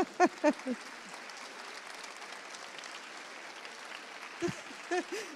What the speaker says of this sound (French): Je pense qu'on peut l'applaudir, évidemment.